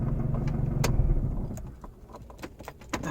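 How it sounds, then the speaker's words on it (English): Mazdaspeed 3 engine running with a suspected timing chain slap, a close, steady mechanical rattle and clatter with sharp ticks and no talking. "I'm not sure what it is, but I keep thinking it's the timing chain."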